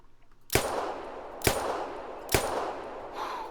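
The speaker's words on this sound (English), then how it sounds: "So we're going to take him out with the 10mm pistol here." Three sharp 10mm pistol shots from a hunting video game, spaced almost evenly about a second apart, each a loud crack followed by a short rolling echo across open terrain.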